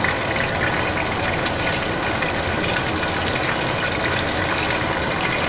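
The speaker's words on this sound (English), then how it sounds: "And I'll add about 1/3 of a cup of water" Water poured into a pot of beef liver stew with tomatoes and onion, a steady splashing gush that runs loud and unbroken from start to finish with no talking.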